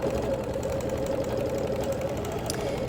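A longarm quilting machine stitches custom ruler work by hand with Omni polyester thread, a steady fast mechanical hum and chatter running without pause, close and even.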